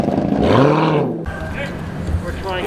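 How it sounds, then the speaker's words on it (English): A supercar engine revs hard on a dyno at an indoor dyno event, a loud swelling harmonic roar that climbs, cuts off abruptly and then settles into a rough, steady drone. "Sounds like an F1 car."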